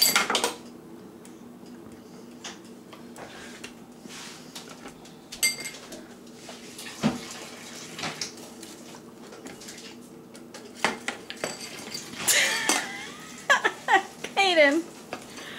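A small child named Kaden bangs a spoon against a bowl, producing scattered clanks and clatters of varying loudness, with an adult talking over the noise and a livelier burst of clattering near the end.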